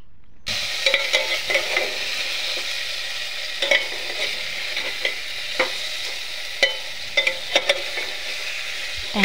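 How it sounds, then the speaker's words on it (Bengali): Fried potato and cauliflower being stirred through spices in a cooking pot, with a steady frying sizzle and recurring scraping stir strokes at irregular intervals, close and moderately loud, no voices. "আলু আর ফুলকপি ভেজে রাখা সেগুলোকে আমি এর হাঁড়ির মধ্যে দিয়ে দেবো, আর তারপরে মশলার মধ্যে এটাকে ভালো করে নাড়াচাড়া করে নেব।"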